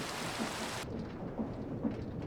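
Steady rain with low rumbles of thunder in the blocky sandbox game Minecraft, a continuous wash of rainfall that thins slightly after the first second, with soft thunder swells recurring underneath and no voices.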